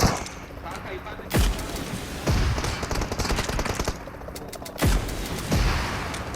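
Gunfire in the battle royale game PUBG Mobile: several loud close bursts of automatic shots and heavy cracks break over continuous rattling fire, with players talking over it.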